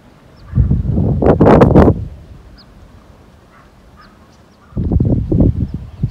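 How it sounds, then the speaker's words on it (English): Ducks quack loudly in two close bursts of repeated calls, flying over and sitting on the water at an empty Nevada lakeside beach, with a quiet gap of calm ambience between them. "Got ducks flying over, ducks on the water"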